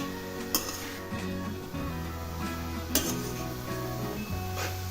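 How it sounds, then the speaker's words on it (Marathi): Carrot halwa roasting in ghee in a pan, heard as a soft sizzle under repeated scraping and clinks of a metal spoon against the pan, close and steady, with no talking. "आता हे भाजतच आलेलं आहे अजून एक दोन मिनिटासाठी भाजायचं आहे"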